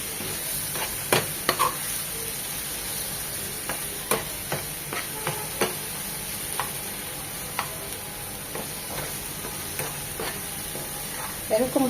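Mashed eggplant fries in a pan with a low, even sizzle, broken by irregular sharp clicks and scrapes as a spatula stirs it, loud and close with no voices.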